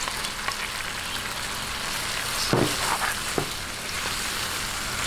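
Chicken sautés in a pan for pocherong manok, sizzling steadily with a soft, even hiss and a few faint stirring clinks, no voices over it.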